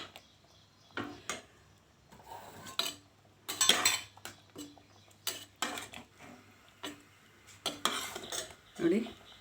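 A spoon stirs coriander leaves into thick rajma gravy in a pot, giving a series of separate clinks and scrapes against the metal with quiet gaps between them, close by.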